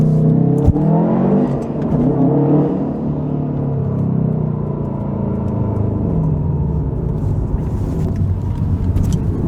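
A manual Subaru WRX accelerating through a tunnel, its engine revving loudly with a rising, echoing rumble and whir that holds steady for several seconds.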